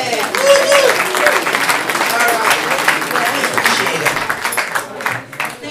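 Audience applause at a public Q&A meeting on a levee project, dense clapping filling the room for several seconds while someone speaks briefly over it.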